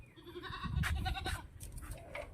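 A goat bleats nearby in a rural yard, a few short wavering calls in quick succession, fairly faint, with no talk.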